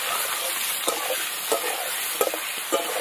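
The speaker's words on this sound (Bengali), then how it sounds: "দিয়ে ভালো করে আলু একদম ভেজে নেবো লাল লাল করে।" Cut potatoes with salt and turmeric fry in hot oil with a loud, dense, continuous sizzle, broken by a few sharp clicks of a utensil stirring.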